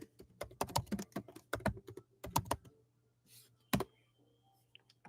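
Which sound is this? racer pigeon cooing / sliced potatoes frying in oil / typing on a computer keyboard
typing on a computer keyboard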